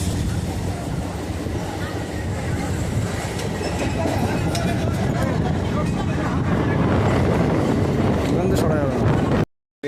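A train passes through a station in a loud, continuous rolling rumble with rhythmic wheel clatter, swelling slightly before cutting off abruptly, while people talk beneath it.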